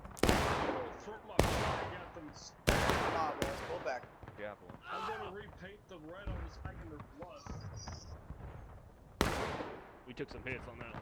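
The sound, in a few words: gunfire in a multiplayer line-battle video game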